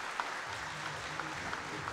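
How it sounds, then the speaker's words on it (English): Crowd applause at a British swimming championship in an indoor pool arena, honouring the new national champion; steady, fairly faint clapping that sounds distant and reverberant, with no voices over it. "let's have a massive round of applause for our new British champion for 2013"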